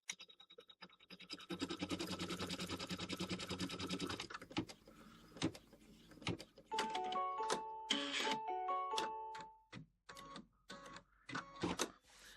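An embroidery machine stitches a winter snowflake block with its needle moving, making a fast, rhythmic mechanical rattle for several seconds. After a pause come clicks and a few short electronic beep tones.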